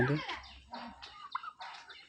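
A turkey in Odisha gives a series of five or six nasal, warbling calls at moderate distance, with brief pauses between them and a voice faintly present.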